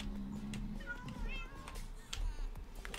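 A cat meows in Minecraft, giving a few short mewing calls in the middle distance over game sounds and background noise.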